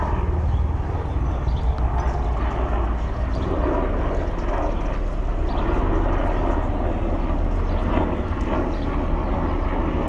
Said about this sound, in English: Military chopper.